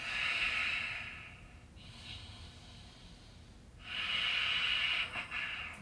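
Slow, audible breathing during a vinyasa yoga stretch, with a strong drawn-out breath, a quieter pause and then another long airy breath, close and steady with no talking.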